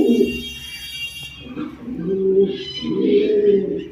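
Racing pigeons coo in low, throaty pulses, close by, after a brief high electronic tone fades early on.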